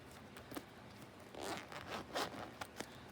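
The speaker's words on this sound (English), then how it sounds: "This is a zipper bag." Zipper on a zipper bag holding skeins of bamboo-blend yarn, faint and close, with several short rasping pulls and a few quick tugs in between, no talking.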